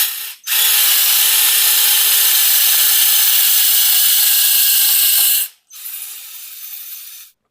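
A budget 600 rpm home-use electric drill without hammer function boring a hole, running as a loud, steady whir for about five seconds, stopping briefly, then restarting for a shorter burst.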